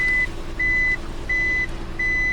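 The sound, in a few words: car reversing beeps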